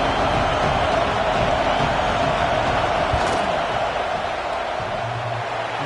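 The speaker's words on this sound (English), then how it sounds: "This crowd trying to do its part to get inside the kicker's head." Stadium crowd noise at a Texas football game during a field goal attempt: a steady, loud, distant roar of many voices holding throughout, with no single cheer standing out.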